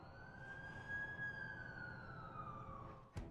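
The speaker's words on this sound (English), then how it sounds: "That's the ambulance I called." A faint ambulance siren in a video game wails in the distance, one long slow sweeping tone rising and falling, ending with a brief sharp click.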